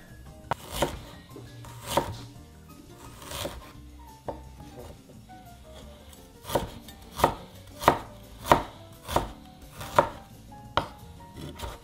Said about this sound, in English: Okay, now that there's no more skin on the ginger, we're going to dice it.